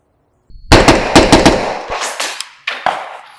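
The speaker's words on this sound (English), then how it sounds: "It doesn't sound like a gun. It just kind of floats in the hands while you're firing it." Knights Armament suppressed rifle firing a rapid string of about eight muffled shots, then two more spaced shots, loud and close with a short ringing tail after each.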